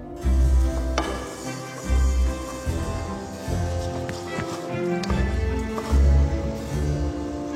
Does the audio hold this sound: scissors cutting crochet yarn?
no